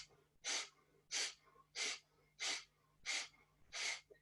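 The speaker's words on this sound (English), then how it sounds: "Breathing out through the nostrils now," Six forceful Kapalabhati nostril exhalations during a yoga class, evenly spaced puffs of breath roughly every 0.65 seconds, close and distinct against near silence.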